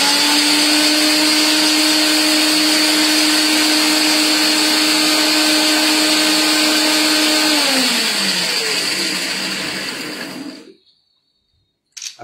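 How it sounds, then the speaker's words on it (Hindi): Iced coffee blended with strong coffee, ice and sugar in an electric mixer, a loud steady whirring drone that slows and winds down near the end, then cuts to near silence. "मैं बीट करने के लिए उसको डायरेक्टली एक स्पून कॉफी थोड़ी स्ट्रॉन्ग वो आइस और चीनी के साथ मिक्स कर रहा हूं।"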